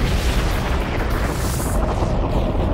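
A supernova explosion effect from a space documentary: a dense, heavy roaring rumble that stays loud and continuous for nearly three seconds.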